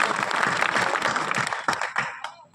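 An audience applauding at a Hindi poetry recital, a crowd's dense continuous clapping at steady loudness that thins into scattered claps and fades toward the end, with no talking over it.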